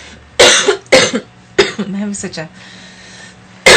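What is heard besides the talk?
cough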